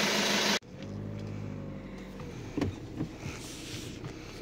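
Diesel engine of a VW Golf 6 TDI idling after an injector repair, a door-like thump and then steady low running with a few knocks and clicks as the car pulls off, close and fairly loud.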